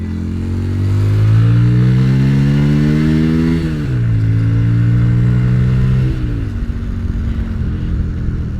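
A budget bobber motorcycle with a modified carburetor slide pulls away on a road test. Its engine is close and loud, rising in pitch through several gears with a brief dip at each shift, then settles into a steady drone.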